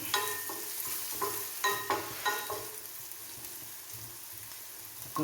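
Curry leaves fry in hot oil for a yam stir-fry, making a bright crackling sizzle with a few sharp pops near the start that settle into a softer, steady hiss.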